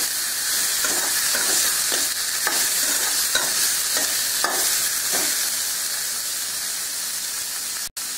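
Steady sizzling and crackling of onions frying in a hot pan, with a few soft stirring scrapes at intervals and no voices.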